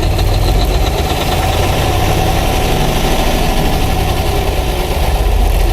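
A truck engine runs steadily through a cylinder test with the accelerator pedal pressed, giving a loud, continuous rough mechanical drone with a slight knocking pulse, close and alone without talk.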